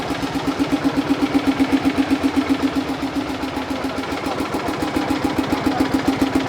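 A Swaraj 720 tractor engine runs at a steady idle, loud and close, with an even rapid chugging pulse that continues throughout with no voices.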